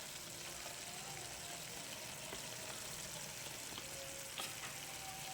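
Vegetables and meat simmer in a pan with stock cubes and soy sauce, giving a quiet, steady sizzle and bubbling with no break, while a few faint tones pass in the background.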